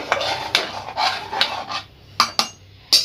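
A metal spoon stirs cracked-wheat pulao with turmeric in a cooking pot, giving scraping strokes and sharp clinks against the metal, with several distinct knocks and short pauses between them.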